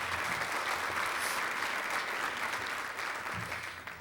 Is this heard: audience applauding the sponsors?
yes